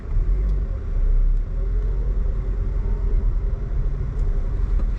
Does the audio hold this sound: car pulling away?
yes